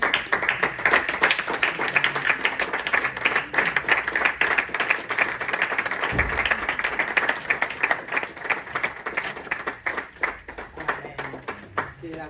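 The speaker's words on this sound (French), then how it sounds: "On peut l'applaudir." Audience at a women's seminar conference claps steadily for over twelve seconds, a dense, rhythmic patter of many hands in a hall, with a few voices and a low thump partway through.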